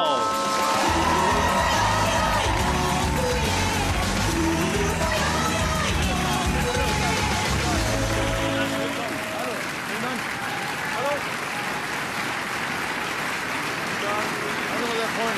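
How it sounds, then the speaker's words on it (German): A studio audience applauds a TV guest on his entrance, loud sustained clapping blended with music and crowd noise that gradually thins toward the end. "Lassen Sie uns diesen Mann mit dem gebührenden Applaus empfangen"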